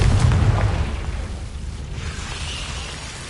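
A Confringo blasting spell explodes in a Harry Potter video game: a heavy, close burst right at the start that rolls into a low rumbling fade.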